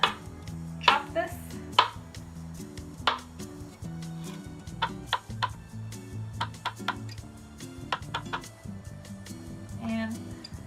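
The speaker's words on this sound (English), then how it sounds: "So I'm just gonna chop this." Knife chopping an avocado, some of it browned, on a cutting board during fresh corn salsa prep: a series of sharp, irregular taps close by, with kitchen background hum and clinks.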